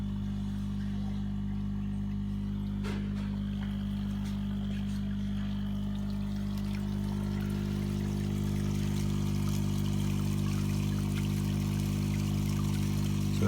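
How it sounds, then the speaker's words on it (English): Water streams steadily in an aquarium sand waterfall model driven by an air compressor, a continuous even flow over a low hum, with faint taps partway through. "And then you'll see the waterfall start flowing again."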